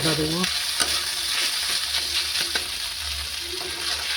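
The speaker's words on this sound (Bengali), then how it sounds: "পেঁয়াজ দিয়ে নাড়ছি, তেজপাতা দিয়েছি আর জিরে দিয়েছি একটু, দিয়ে তারপরে নাড়ছি" Onions frying in a pan with bay leaf and cumin, stirred in repeated scraping strokes over a constant close sizzle, with no speech.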